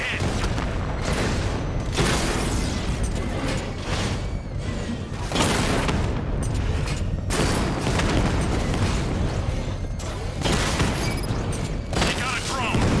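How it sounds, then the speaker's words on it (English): Rapid gunfire and heavy booming explosions from a tank battle in the Batman: Arkham Knight PC game, sustained and loud throughout with repeated blasts, layered under shouted in-game radio chatter. "Batman's taking out a Rattler"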